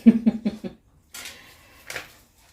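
Dishes, pots and pans clink in a home kitchen: four quick ringing knocks, then two softer scraping clatters after a short pause.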